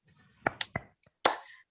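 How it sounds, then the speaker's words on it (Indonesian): Hands clap along to a children's song in a classroom lesson: three quick claps in a row, a brief pause, then one louder clap, crisp and close. "Kalau kau suka hati, tepuk tangan."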